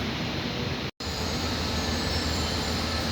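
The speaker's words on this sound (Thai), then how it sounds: "ขบวนรถเร็วที่ 139 ต้นทางจากกรุงเทพ อภิวัตรปลายทางไปอุบลราชธานี" Express train no. 139 from Bangkok Apiwat to Ubon Ratchathani rolls past as a steady, loud rail roar with wheel noise. A brief dropout cuts the sound early on, then it continues unbroken.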